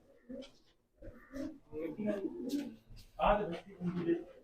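Pigeons coo softly nearby, low murmuring calls mixed in with someone talking over them throughout.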